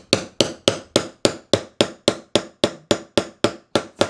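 A hammer strikes steadily in a fast, even rhythm, about fifteen sharp loud blows close by, each ringing briefly before the next, with no talk.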